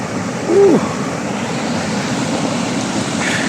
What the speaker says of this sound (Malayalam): കാടിനകത്ത് അധികം ആരും തന്നെ എത്താത്ത ഒരു സ്ഥലമാണ് ഈ ഗഗൻ വില്ലേജിലെ ഈ വെള്ളച്ചാട്ടം